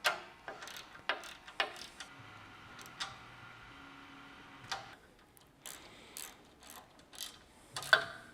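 A hand ratchet clicks in short bursts while tightening the light bar bracket bolts on a Sherpa roof rack of a Toyota 4Runner, quiet and close, with pauses and small metallic knocks between strokes.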